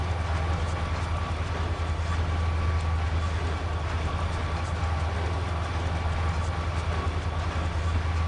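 Train rolling along rails in the Trainz 2022 simulator on a Tidewater route, a steady loud low rumble with continuous wheel and track noise, no talk.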